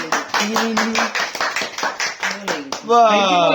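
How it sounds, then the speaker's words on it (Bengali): Rhythmic hand clapping at a child's birthday celebration, a dozen or so steady claps in time, close and lively, while voices chant along over them. "হাততালি দাও, হাততালি দাও, হাততালি দাও।"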